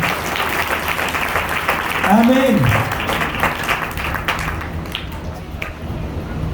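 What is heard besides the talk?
loud clapping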